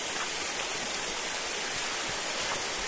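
River flowing below a cliff near a village of dolmens and a waterfall, a steady broad rushing wash of water heard from a distance, constant and fairly faint with no voices.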